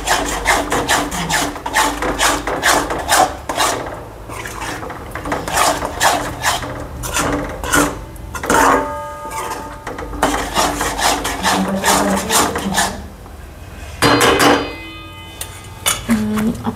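Sheera being stirred in a pan with roasted dry fruits added, a spoon scraping and rasping against the metal in steady repeated strokes, close and fairly loud, with no talking.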